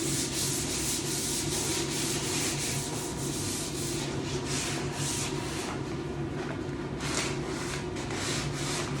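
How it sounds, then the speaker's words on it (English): Continuous rhythmic rubbing of sandpaper on wood, light repeated strokes in a steady back-and-forth pattern, close and fairly loud with no talking. "As you see, I'm not sanding real aggressive. Just light sanding."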